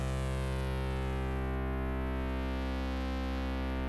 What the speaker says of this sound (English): We turn on the bit crusher here.